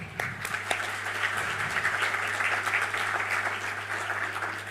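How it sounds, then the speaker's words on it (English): Audience applause for graduates at The British College graduation ceremony, a steady wash of many hands clapping in a large hall, moderately distant with a low hum beneath. "So let's give a round of applause to all of our graduates today."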